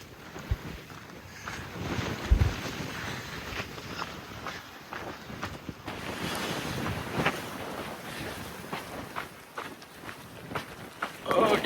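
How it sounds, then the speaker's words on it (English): Gusty wind buffets the microphone on a Pacific Crest Trail hike, a steady broadband roar rising and falling in waves for the whole stretch, with a louder thump near the start and no clear talk. "The wind is now to my back, so now I'm trying to not fall forward."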